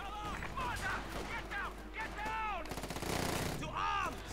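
Light machine gun fire in Company of Heroes 2 rattles in rapid bursts behind a steady stream of game noise and overlapping voices, mid-distance and moderate in level.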